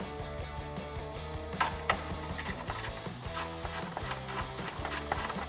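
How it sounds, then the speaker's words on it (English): A ratchet turns a 13mm socket to tighten a hold-down bolt on an F-150. It gives a quiet, close, steady stream of rapid clicks with a few slightly louder ticks. "Now we can tighten it down using our 13mm socket."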